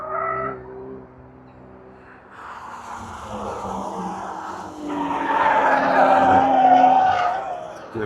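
A race car at Brands Hatch approaches and laps the track, its engine note swelling from faint to louder with a whining pitch line as it nears, heard from trackside.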